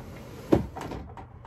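A drawer is opened or closed with a single soft thud and a brief scrape, close and quiet against a low background hum.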